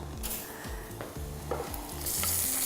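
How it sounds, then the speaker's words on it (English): Loud, steady sizzling as vegetables fry in a hot pot, with scraping stirring strokes repeating throughout. "you will hear them sizzle when they pop into the pot"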